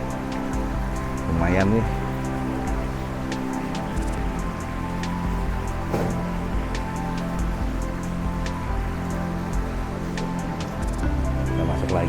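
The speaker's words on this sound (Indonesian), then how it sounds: "Adem ya suara airnya" Water flowing steadily at an old Chinese mansion courtyard, a continuous gentle wash with scattered drip-like ticks, someone speaking briefly over it.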